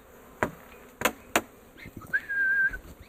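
Honey bees buzz around a backyard Flow Hive, a few sharp close clicks and knocks followed by a thin, steady whine from an insect passing near, with no voices.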